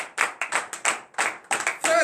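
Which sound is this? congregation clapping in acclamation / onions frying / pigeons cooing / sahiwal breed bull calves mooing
congregation clapping in acclamation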